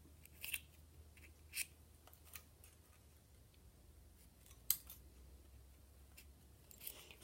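Scissors snip through a Nespresso capsule shaped into a flower, a handful of quiet, separate crisp cuts spaced irregularly over a faint low background hum.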